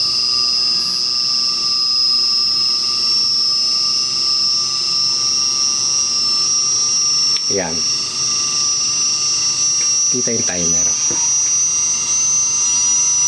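An air compressor fills its tank toward 100 PSI, running with a steady high mechanical whine and hum throughout, while a person talks briefly over it.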